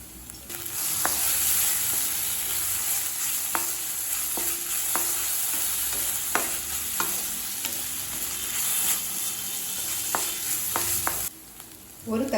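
Ginger garlic paste fries in a pan with a steady sizzle, punctuated by scattered clicks and scrapes of a spoon stirring against the pan, with no talking.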